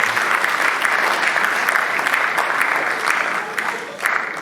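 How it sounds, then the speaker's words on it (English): An audience at a healthcare panel discussion applauds the panelists. Dense, sustained clapping fills the whole stretch, steady and fairly loud, and eases slightly toward the end. "I think they deserve a round of applause"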